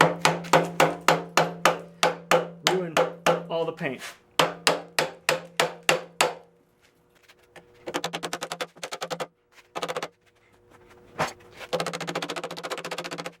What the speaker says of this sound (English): So I'm going to take my hammer